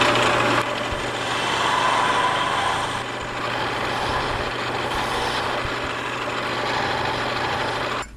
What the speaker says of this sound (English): I'm going to use a skew chisel and just make a paring cut right in there.